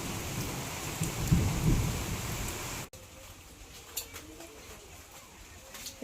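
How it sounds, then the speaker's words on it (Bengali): Rain that has fallen since morning hisses steadily with a rumble of thunder early on, then cuts abruptly to a quieter patter of drops with a few faint knocks. "আজকে দিন কি খারাপ কি অন্ধকার সকাল থেকে কি বৃষ্টি হইতেছে"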